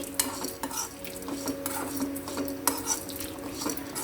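A utensil scrapes and clinks against a pan as dried coconut and spices are stirred while roasting, with repeated metallic taps and a faint sizzle, close and steady throughout.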